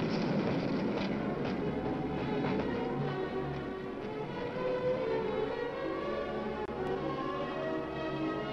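A train approaching a level crossing from the opposite direction while the warning lights keep flashing red, heard as a steady low rumble and rolling wheel noise that holds at an even level throughout, with no voices.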